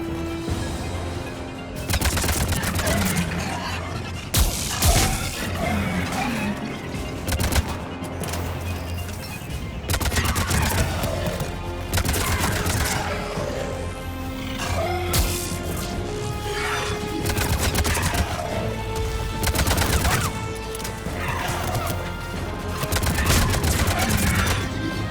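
Rapid gunfire bursts and crashing impacts rattle through a Mass Effect 3 firefight, loud and near, with volleys repeating in uneven clusters over a steady battle din.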